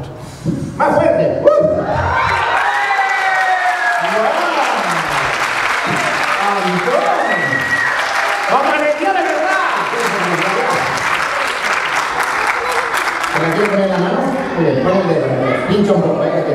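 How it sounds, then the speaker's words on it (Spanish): Children's audience applauding and cheering at a clown show, a loud sustained burst of clapping and excited young voices that carries through the whole stretch, with a few shouts on top. "Un fuerte aplauso para Antón, ¿eh?"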